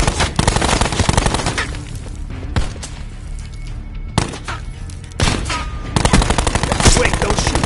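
Loud, close video-game gunfire rattles in rapid automatic bursts with sharp single shots, broken by brief quieter gaps before firing resumes.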